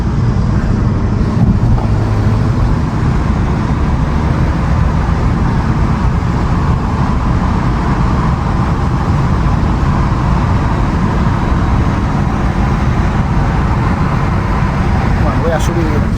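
Steady, loud roaring rush of wind through the open windows of a moving Volkswagen Golf GTI Mk7 Performance (300+ hp), a broadband buffeting noise with road rumble underneath that holds evenly throughout.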